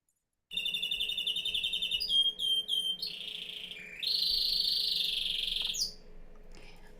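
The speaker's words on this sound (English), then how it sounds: "can you just let the birds sing for a little while for me? It's YouTube canary song." A recorded canary song plays back, bright, loud trills and sustained whistled phrases that shift pitch in separate bursts, carried over a faint steady hum and ending in a short quieter tail.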